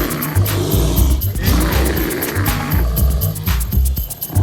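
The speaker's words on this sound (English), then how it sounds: "a big polar bear lumbered and let out a loud growl and roar" A big polar bear on a snowy, windy night lets out deep, loud growls and roars, rumbling close and unbroken for several seconds.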